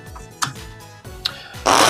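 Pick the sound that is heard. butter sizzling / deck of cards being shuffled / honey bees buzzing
deck of cards being shuffled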